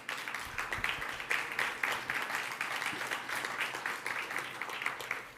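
Audience applause honoring the artist Simone Fattal at a public talk: dense, steady clapping from a sizeable crowd that holds at an even level throughout.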